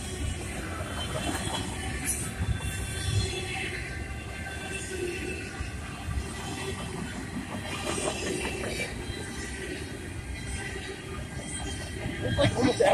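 Freight train with cars of many railroad companies rolling past a railroad crossing, a steady rumble with rhythmic clickety-clack of wheels over the rails and occasional squeals, close and continuous throughout, with a voice speaking over it.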